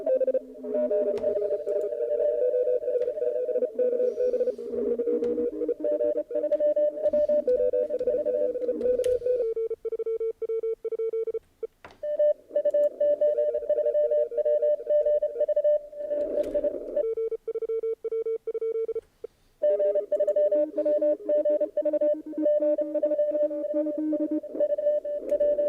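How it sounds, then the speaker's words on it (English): Amateur radio CW Morse code signals keyed as steady tones in bursts and gaps, loud and clear, with fainter overlapping signals and brief static breaks. "Adam, you put it in the run mode here in CW"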